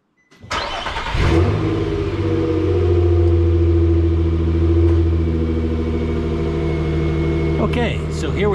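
A truck engine starts and settles into a steady idle, a low, even rumble with a constant hum, close by and continuing for several seconds before a brief rattle near the end.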